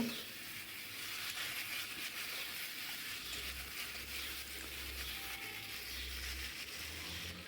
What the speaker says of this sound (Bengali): এখন ভেজে রাখা আলুগুলো দিয়ে মশলাটার সঙ্গে একটু কষে নেব।